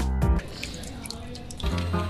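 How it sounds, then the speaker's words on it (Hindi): Water poured onto a printer makes a brief wet splash and squishy drip, set between stretches of talk. "पानी डाल के देखते हैं।"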